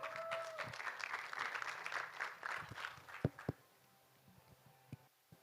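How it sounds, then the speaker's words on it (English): Audience applause at a COP28 climate event hangout, a steady wash of clapping from a large crowd for about three seconds, then tapering off to a few scattered claps and quiet room noise. "Please give him a big round of applause."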